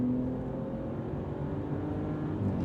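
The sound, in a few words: 2025 Ram RHO pickup truck engine accelerating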